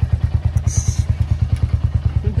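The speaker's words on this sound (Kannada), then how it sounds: "ಹೆಂಗದ ನೋಡಿ ಅಣ್ಣನ ಗಾಡಿ, ರಾಯಲ್ ಎನ್ಫೀಲ್ಡ್." Royal Enfield motorcycle idling close by with a loud, steady, evenly spaced thump of its engine, plus a brief faint higher clatter partway through.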